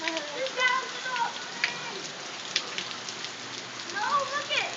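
Hail falls during a February storm in Tucson, a dense steady patter of small impacts close by, with children's voices talking over it at the start and end.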